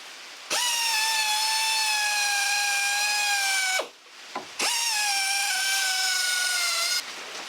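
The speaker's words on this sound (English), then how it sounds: "instead of my little wire brush, I'm just going to use this on my air drill" An air drill with a wire brush whines at a high steady pitch for several seconds while cleaning a car wheel bearing housing, stops briefly, then spins up again, loud and close with a scrubbing edge.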